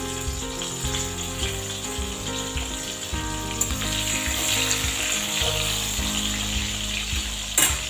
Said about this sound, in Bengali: মাছ ভাজার তেলেই কালো জিরে কাঁচা লঙ্কা ফোড়ন দিয়ে টমেটো দিয়ে ভালো করে একটু ভেজে নিয়েছি